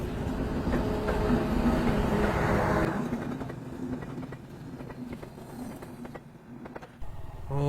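A passenger express train, the Padma or Banalata Express, rolls slowly through thick fog, a low rumbling drone with faint rhythmic clicks of wheels on rails that thins out as it passes, recorded from close by.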